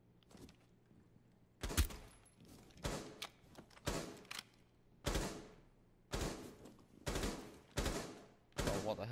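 Gunfire in Rainbow Six Siege lands as about eight spaced, punchy shots or short bursts with echoing tails, fairly close, over a low background hum.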